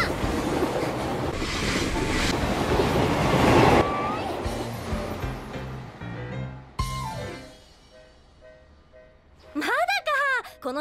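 A train rumbles past a railroad crossing with rolling rail noise that fades, then loud high-pitched squeals ring out near the end.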